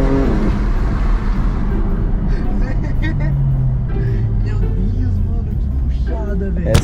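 A car engine revs with a deep, steady rumble heard from inside the cabin, rising in pitch partway through while people talk loudly over it throughout.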